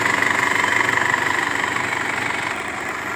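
Used car engine idling during an inspection, a steady close rumble with a fast, even pulsing throb and no talk.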